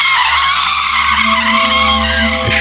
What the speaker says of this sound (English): a sharp screech pierced the air